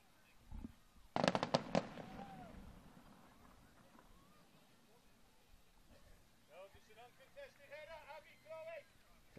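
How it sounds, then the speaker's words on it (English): Distant fireworks burst over Toyota Stadium during an outdoor youth girls' soccer match, a quick cluster of sharp cracks early on, followed by quieter field ambience and voices talking. "More fireworks going on over there at Toyota Stadium."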